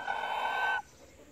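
An Asil rooster gives a single loud, close call lasting under a second, then cuts off to quiet background.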